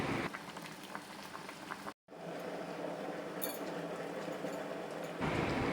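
Water boils vigorously in a cooking pot, giving a dense, steady bubbling roar that drops out for a moment and then resumes at the same level.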